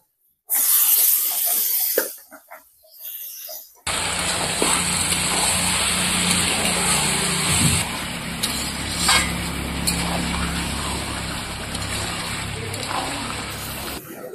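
Chicken meat with onions hits hot oil for chicken kosha, setting off a loud, dense frying hiss that starts abruptly and sizzles steadily up close, after a brief earlier burst of sizzling.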